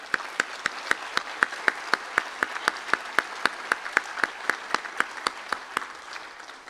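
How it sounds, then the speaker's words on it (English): Applause for family members in the crowd at a speech-language pathology graduate hooding ceremony, heard as steady, evenly spaced claps that sound like a small group or a single clapper, moderately loud and fading slightly toward the end. "I think they deserve a round of applause"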